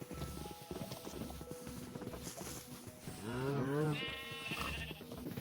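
A Minecraft sheep gives one clear, wavering bleat partway through, close and moderately loud, over quiet in-game footsteps and clip-clop.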